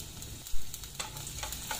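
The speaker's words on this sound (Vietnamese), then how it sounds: "cho dầu ăn vào xô ha, và cho phần củ hành tím băm vào để mình phi thơm cái phần phần này nha" Minced shallots sizzle in cooking oil in a pot for a pork rib and winter melon soup, with a steady close frying crackle and a few sharper pops, no talking.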